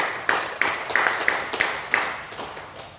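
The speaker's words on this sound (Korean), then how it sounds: "우리 박수로 한번 축하합니다." A church congregation claps to congratulate a member on finishing military service: a modest group applauding in a steady, pulsing rhythm, moderately loud in an indoor room.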